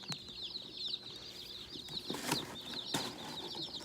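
Newly arrived meat chicken chicks chirp in a brooder: many high, rapid peeps overlap steadily, with faint rustling and a few soft thumps nearby.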